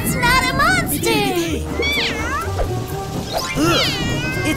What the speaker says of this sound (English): It's just a cat!